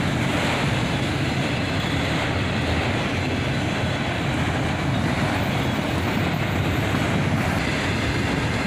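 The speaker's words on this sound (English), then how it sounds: "And now here comes the second locomotive." Second locomotive of a southbound freight train, a distributed power unit, approaching with a steady loud rumble and broadband roar, continuous throughout without voices.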